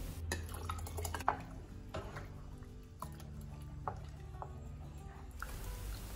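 Wheat flour and milk mixture being whisked in a pot over a medium flame, producing soft repeated scrapes and light clinks against the metal, quiet and close, with no talking.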